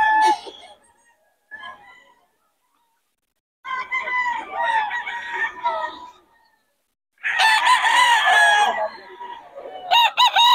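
Chickens and roosters at the Bocaue market crow and cluck nearby in loud bursts separated by brief quiet gaps, with several overlapping calls near the end.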